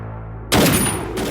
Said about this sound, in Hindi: सर ने गोली चला दी